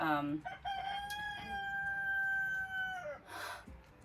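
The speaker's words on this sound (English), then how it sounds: "There's always a rooster crowing around here." A rooster on a rural property lets out one long, clear crow that rises and holds for a couple of seconds before trailing off, fairly close and loud over faint background clucking.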